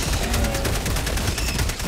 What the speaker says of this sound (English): Gatling gun coming in